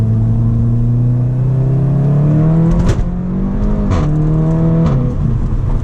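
Seat Leon Cupra 290 with a modified exhaust revving loudly up close, engine note rising and falling, with sharp crackles and pops bursting out at about three, four and five seconds.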